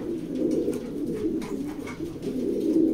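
Racing pigeons in a loft coo steadily, overlapping low rolling calls continuing throughout at a fairly close, even level with no voices.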